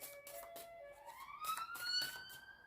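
A faint siren wails outdoors at a distance, its tone rising steadily in pitch, with no voices over it.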